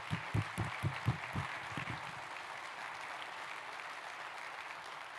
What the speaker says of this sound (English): let's take a moment to give a round of applause to our state employees